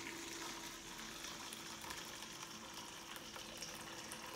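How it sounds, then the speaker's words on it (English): Nearly boiling water pours into a bowl, a steady, soft gushing splash that runs evenly and faintly throughout with no talking. "This water is almost boiling. So I'm gonna pour it into the bowl."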